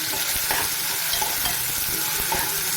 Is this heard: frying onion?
yes